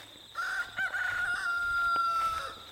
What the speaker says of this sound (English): There goes the rooster out the background.